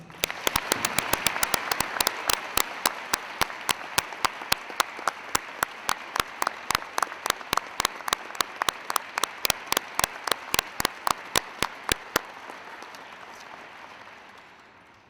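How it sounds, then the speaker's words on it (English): An audience at a high school Veterans Day program gives honored veterans sustained applause, dense clapping that thins into scattered claps before fading out. "Please join me in giving our honored veterans a round of applause"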